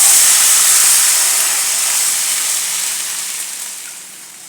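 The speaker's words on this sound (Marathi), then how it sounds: "आपण जे पाण्यामध्ये दही घालून ठेवलेलं आहे ते याच्यात ओतून घ्यायचं।" Curd mixed with water poured into a hot pan, a loud broad hiss of steam that slowly fades over several seconds, with no voices.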